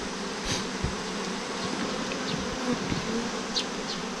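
Honeybees from a captured swarm buzz in a dense, continuous drone close to the microphone at an open hive, with occasional individual bees flying past.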